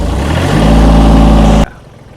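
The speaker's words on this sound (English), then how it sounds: "Turn the tractor on." A farm tractor engine runs loud and steady, its low rumble building after start-up, then cutting off abruptly near the end.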